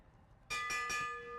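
A lap bell rung at a cycling race, three quick bright strikes that ring on with a sustained metallic tone, close and clear over faint background noise.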